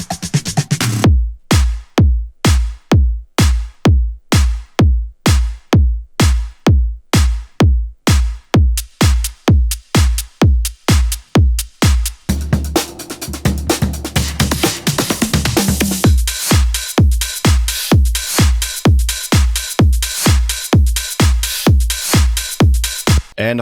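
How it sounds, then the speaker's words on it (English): Electronic drums pound in a music production track, a punchy four-on-the-floor kick with crisp hits repeating steadily and loudly, joined midway by a denser synth layer that fills out the groove. "And of course, we have some drums."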